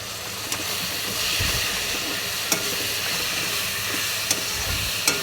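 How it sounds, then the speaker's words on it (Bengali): Spice paste with a little water sautés in oil for a fish curry, giving a steady close sizzle and hiss with a few sharp stirring knocks against the pan. "সাথে সামান্য পরিমাণ জল দিয়ে ভালো করে কষিয়ে নেব, যাতে মশলাটার থেকে তেলটা ছেড়ে দেয়।"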